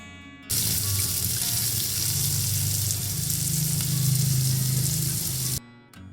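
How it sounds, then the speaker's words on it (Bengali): Sliced onions frying in ghee for crispy birista for basmati pulao, a steady loud sizzle that starts abruptly, holds evenly for about five seconds, then cuts off. "আমি এখানে 2 চা চামচ মতো ঘি দিলাম পেঁয়াজ বেরেস্তা করার জন্য।"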